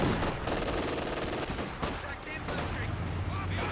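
MG42 machine gun fire in a WWII strategy game battle, with dense bursts of gunfire and distant shots rolling continuously alongside other battle noise, fairly loud throughout.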